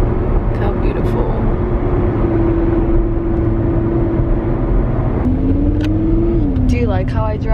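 A Lamborghini driving with its engine revving, a steady droning engine tone that climbs and shifts pitch near the end, heard from inside the car over continuous road rumble.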